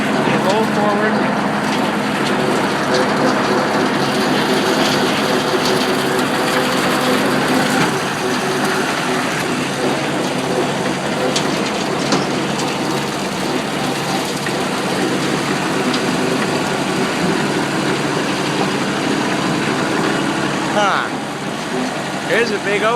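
Kubota M4050 two-wheel-drive full-size tractor rolling forward over grass, its diesel engine a steady, loud rumble with rattles and clunks throughout.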